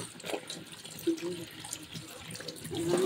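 Water pours steadily from a tap into a cooking pot, the splashing rising in pitch as it fills, with faint voices in the background.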